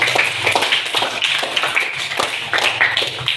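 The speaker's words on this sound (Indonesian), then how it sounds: "tepuk tangan untuk Dina" Classmates clap for a student in a classroom, a dense burst of many hands striking together steadily for a few seconds, fairly close and even in loudness.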